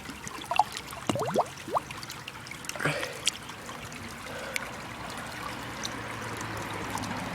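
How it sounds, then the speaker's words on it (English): Water trickles and pours over an old glass bottle just dug from the ground while it is rinsed off outdoors, with a few splashy bursts early, then a faint steady flow. "So I'm going to wash it off."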